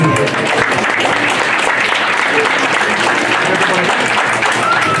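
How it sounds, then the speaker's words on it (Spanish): Loud, sustained applause from a wedding crowd, steady clapping throughout with no pauses. "Que se siga escuchando ese fuerte aplauso."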